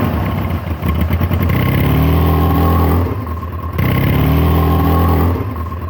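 A cheap used sportsbike motorcycle setting off, its engine revving up loudly through rising gear pulls with a short drop between them, close by and with no talk over it.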